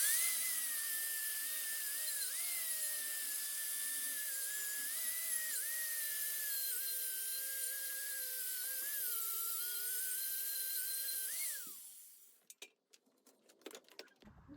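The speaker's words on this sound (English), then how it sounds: "the first thing I'm going to try is a wire brush on an angle grinder" Angle grinder fitted with a wire brush scrubbing an old floor tile during an Italian renovation, a loud steady high whine running for about twelve seconds with slight pitch dips under load, then cutting off into scattered clatter.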